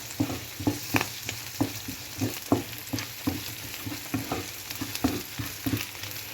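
Shallots and turmeric powder sautéing in oil in a pan for a Kerala-style mushroom mezhukkupuratti, a close frying sizzle broken by a rhythmic series of spoon strokes scraping and tapping the pan, without talk.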